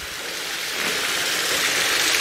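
Water seeping through the foundations of a collapsed wall in an old textile factory, a steady broad rushing hiss like a small stream that grows slightly louder, with no voices.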